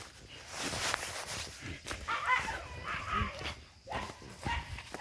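A small dog yaps and barks in short bursts while running about on the terrace of a lower house in a village, its calls fairly close and mixed with other household noise.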